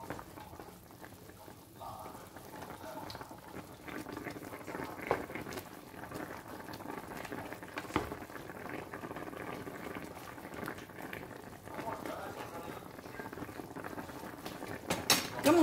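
Honey-glazed pork ribs simmering in a pot, a quiet continuous bubbling boil with soft liquid gurgles and occasional faint clinks, low and steady throughout.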